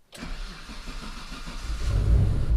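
A Mitsubishi 3000GT VR4 engine with a leak, after street tuning, cranks and catches, then settles into a rough idle that swells louder and deeper toward the end, close by with no talk.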